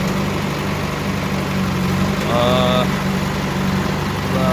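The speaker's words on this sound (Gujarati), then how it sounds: "JCBનું એન્જિન સરસ છે" A 2007 JCB backhoe loader's engine runs steadily at idle, a loud, close, low diesel drone with constant vibration, and a brief tonal squeal or whine rising partway through.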